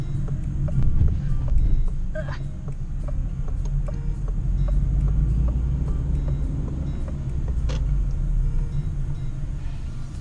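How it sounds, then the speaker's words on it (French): A third-generation Citroën C3 engine hums low and steady while accelerating, a soft rumbling drone with wind buffeting the microphone and faint clicks throughout. "Avec un petit bruit de moteur, tout petit, uniquement quand j'accélère."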